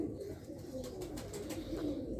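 Cooing from a Zeera golden breeder pigeon, low soft coos repeating steadily through the short stretch at close range, with faint chirpy bird sounds above and no talking.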